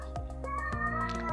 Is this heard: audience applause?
no